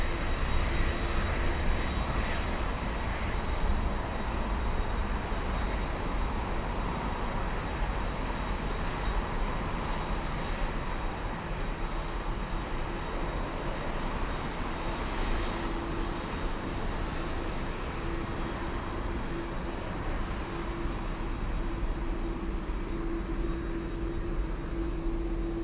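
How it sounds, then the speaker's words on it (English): A Lufthansa Boeing 787 jet departing Frankfurt airport for Rio de Janeiro during the evening rush, a continuous broad engine roar at a steady level throughout, heard alone with no voices. "The Lufthansa 787 heading to Rio de Janeiro."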